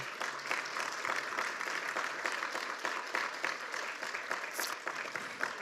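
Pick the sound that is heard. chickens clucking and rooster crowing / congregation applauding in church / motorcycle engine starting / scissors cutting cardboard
congregation applauding in church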